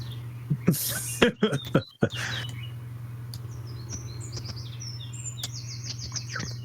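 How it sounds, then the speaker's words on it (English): Birds chirp and tweet outdoors in a loud morning chorus, bright rapid calls repeating over a steady low hum, with a few thuds and rustles early on. "Shout to all that chirping."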